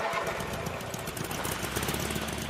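A cartoon lawn mower engine runs loud and close, a dense continuous knocking drone with a rough rapid pulse and no speech over it.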